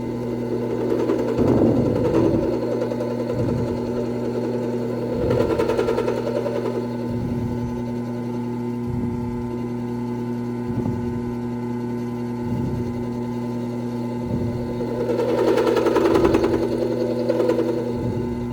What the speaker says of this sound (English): This is actually the first time I'll be making milling type chips on this machine